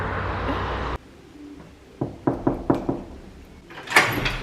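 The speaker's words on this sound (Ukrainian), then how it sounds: "Там Мишечка стукає" Knocking on a door at home, a series of five or six sharp raps in an uneven rhythm after an abrupt drop in background noise, followed by a brief louder sound.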